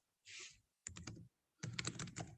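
Someone types on a computer keyboard in three short bursts of rapid clicking keystrokes separated by pauses, close and fairly quiet.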